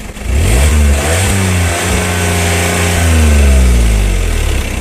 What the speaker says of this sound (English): That's what stock exhaust sounds like.